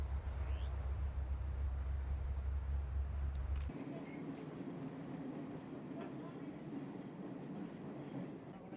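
Classic steam train running through the African countryside on the Nairobi–Mombasa line, heavy low rumble for a few seconds, then a lighter steady rolling of cars on the rails with faint clatter and a voice underneath.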